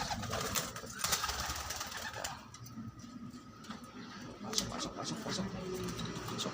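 Male pigeons coo in low, rolling calls from a loft, fairly faint against a busy background with light ticks and shuffling.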